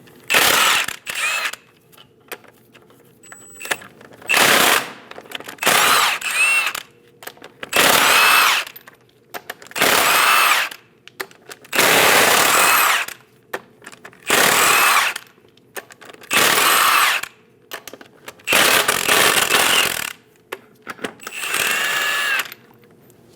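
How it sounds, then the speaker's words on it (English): Impact wrench with a 22mm socket spinning off the eight lug nuts on a 2001-2006 Chevrolet Silverado 2500 HD front wheel, loud buzzing bursts of one to two seconds repeated about nine times with short quiet gaps between. "Using a 22mm socket, remove all 8 lug nuts."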